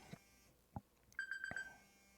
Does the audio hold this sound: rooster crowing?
no